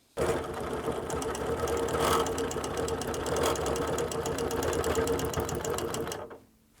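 Close sewing machine stitching steadily in a quilt seam for about six seconds, with a fast even needle rhythm, then stopping abruptly.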